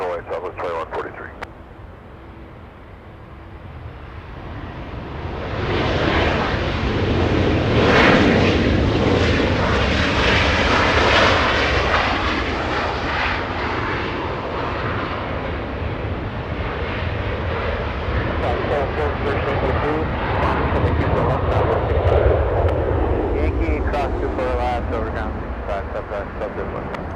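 A Southwest Airlines Boeing 737-800 takes off from LAX, its jet roar building from quiet to a loud, sustained rumble and whine that stays strong to the end, with radio chatter and voices heard underneath.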